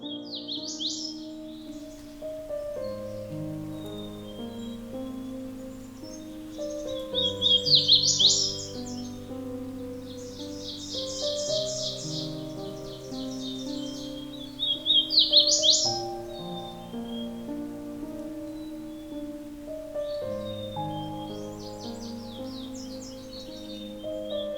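Bird songs ring out in intermittent bursts of high trills and chirps over a steady backdrop of sustained, layered musical tones.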